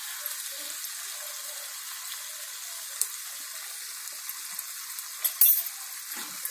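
A pumpkin and potato curry with ghee gives off a soft, steady sizzle in a pan, and a spoon stirs it with a few faint scrapes and clinks, clustered near the end.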